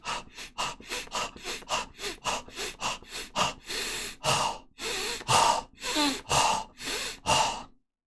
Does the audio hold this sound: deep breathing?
yes